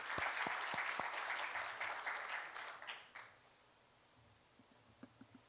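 Applause at the launch of the Nursing Council of Kenya's strategic plan as a speaker is invited up. A few sharp claps open into a moderate indoor round that fades out after about three seconds, followed by isolated faint claps.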